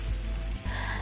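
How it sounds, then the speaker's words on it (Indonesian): Tofu frying in hot oil in a home kitchen: a loud, dense, continuous sizzle heard close up, briefly dipping for a moment before crackling on, with no talk. "Jadi ini saya goreng tahunya dulu."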